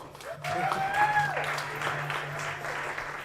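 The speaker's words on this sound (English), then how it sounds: "round of applause" Audience applause at a tennis association awards banquet, a steady wash of clapping held at an even level throughout, with a faint tonal hum and a brief whistle-like tone early on.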